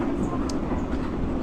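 KA Ranggajati passenger train with new-generation carriages running, heard as a steady loud rumble and rolling rail noise from on board, continuous with faint rhythmic clatter.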